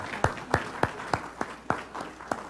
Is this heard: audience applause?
yes